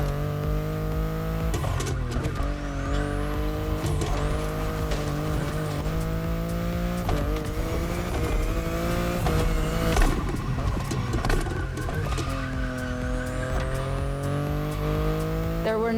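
A BMW i8 hybrid sports car in The Crew Motorfest racing game drives with a steady engine drone whose pitch climbs and falls through gear shifts, with occasional tire squeal, loud and continuous throughout.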